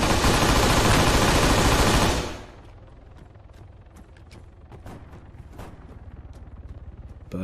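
A loud, continuous roar of rapid gunfire in Arma 3 for about two seconds, then sudden quiet with scattered faint clicks and distant pops.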